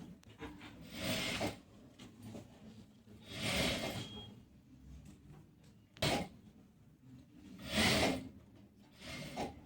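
A sewing machine runs a seam on a panel palazzo in short bursts, each a whirring rattle lasting about a second, separated by quiet pauses and soft fabric handling.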